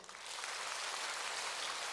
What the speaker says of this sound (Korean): 찬양대 박수 한번 치세요.